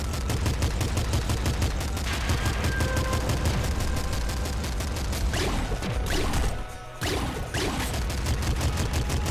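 Rapid automatic gunfire in the top-down shooter Nuclear Throne, dense evenly spaced shots hammering almost without pause, broken by a brief explosive crash and a short gap before the firing resumes, loud and close.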